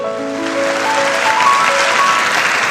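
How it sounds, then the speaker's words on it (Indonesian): A church congregation applauds during a sermon, a dense continuous wash of clapping hands with faint tonal music underneath, loud and steady for the whole stretch. "Kasih tepuk tangan untuk Tuhan."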